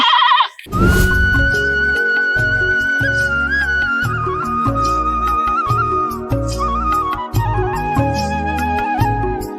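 A sick goat bleats loudly and close, a long wavering cry held over several seconds with shorter calls around it.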